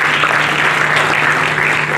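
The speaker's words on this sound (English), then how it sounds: "give yourselves a round of applause as we start this quiz" A quiz-competition audience at the NTPC Electron Quiz 2023 regional round in Patna applauds, dense continuous hand-clapping filling the hall, fairly loud and steady with no speech over it.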